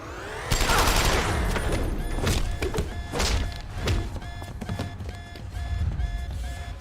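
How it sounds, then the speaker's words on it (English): Automatic turret fire in the video game Deus Ex: Human Revolution, a loud sustained burst of rapid mechanical shots running continuously for several seconds with metallic clatter layered over it. "That sounds like a turret."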